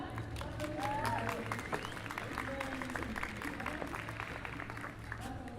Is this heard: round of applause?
yes